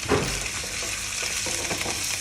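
Minced meat fries in a pan for cottage pie, a constant close sizzle and crackle with a short stirring scrape near the start and brief scuffs later, no talking.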